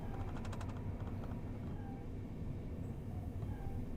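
A train coasting toward Norbury in Train Sim World 3 at around 44 mph, giving a steady low rumble of wheels on track with faint metallic clicks and squeals, no voices.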